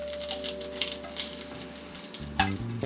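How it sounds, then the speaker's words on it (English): Diced red onion sizzles in a hot pan with a steady close crackle and hiss, ending in a brief clatter as the pan is tossed. "once you see it's hot, add your onions. 1 tablespoon of red onion, diced red onion"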